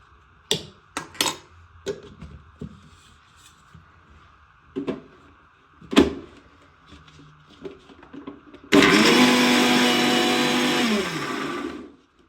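A few scattered clicks and knocks, then a mixer grinder roars loudly for about three seconds grinding cooled cooked greens for sambar, before abruptly stopping.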